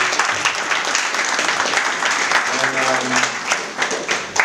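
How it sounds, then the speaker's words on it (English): Dense applause from a gathered audience at a 20th anniversary public service event in Bushwick, steady and close, with some voices audible beneath the clapping. "I believe he deserves a round of applause"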